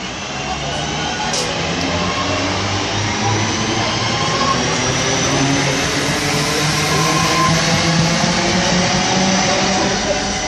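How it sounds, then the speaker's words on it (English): Class 323 electric multiple unit 323-237 pulling away from Cheadle Hulme towards Manchester Piccadilly, a steady broad rumble and hum sustained throughout, fairly close and loud with no talk over it. "There goes 323-237 off to Manchester Piccadilly by Stockport, Heaton Chapel"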